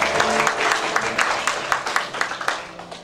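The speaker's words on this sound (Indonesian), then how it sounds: "Sekali lagi tepuk tangan buat Tuhan" A church congregation claps for God during a sermon, starting as a dense burst of applause that thins into scattered, rhythmic individual claps as it fades, heard fairly close in a reverberant hall.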